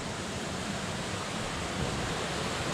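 Fast-flowing river swollen with floodwater rushes in a steady, broad roar, loud and continuous with no talk over it.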